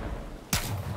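Smart rockets fire in the video game Borderlands 3, a single sharp explosive blast that bursts out suddenly and rings briefly over faint game ambience.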